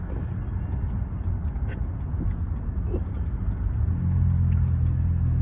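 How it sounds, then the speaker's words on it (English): An old, rattling car runs nearby, its low engine rumble steady and swelling noticeably louder toward the end, with faint ticking above it. "This guy's car sounds like it's gonna fall apart."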